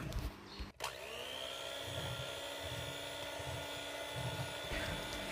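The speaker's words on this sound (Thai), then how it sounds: "ใส่กลิ่นวานิลาแล้วตามด้วยน้ำตาลไอซิ่งจากนั้นก็ปั่นให้เข้ากันก่อนค่ะ" Electric hand mixer whirring steadily as it beats butter with vanilla and icing sugar, a loud continuous motor drone with a rhythmic churning pulse from the beaters, starting abruptly after a brief knock.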